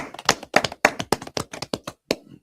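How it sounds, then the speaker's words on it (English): A small group clapping on command, about a dozen distinct, fairly sharp claps in a loose rhythm, close and loud with brief gaps between them. "All right, clap it up."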